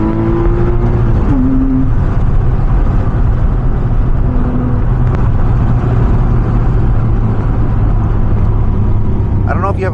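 A 2006 Porsche Cayman S with a 6-speed manual drones loudly and steadily. Engine pitch holds under constant load with a few tonal shifts, and the whole run stays close and cabin-level.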